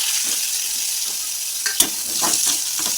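Pumpkin pieces frying in mustard oil with black cumin seeds give a steady close sizzle, with a few sharp clinks and stirring scrapes scattered through, no voices.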